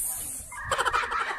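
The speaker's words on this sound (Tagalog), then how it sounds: "Medyo may maingay. May kalapati sa bubog." A pigeon perched on a roof gives a few short, close cooing calls that start partway through, over quiet room tone with no talking.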